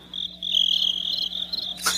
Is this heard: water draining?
no